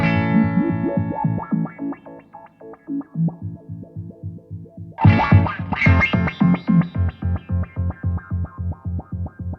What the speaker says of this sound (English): So there I flipped it to the high pass, and it starts to be sample and hold.